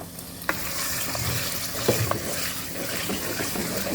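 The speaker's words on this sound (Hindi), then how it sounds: "चिकन को हम थोड़ा सा भून लेंगे ऑयल में" Chicken frying in oil in a pan with a steady, close, dense sizzle throughout, broken by a few clinks and stirring knocks, with no talking.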